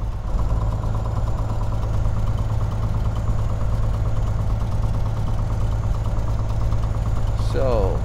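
A Cessna 182's piston engine idling before its takeoff run-up, a loud, steady throbbing drone heard from the cockpit, with a brief voice near the end.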